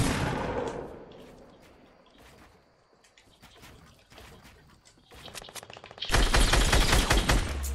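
Gunfire in Fortnite, with scattered shots crackling through the first half, then a sustained, loud burst of rapid automatic fire in the final seconds.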